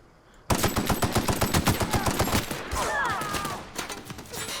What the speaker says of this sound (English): Assault rifle, sure.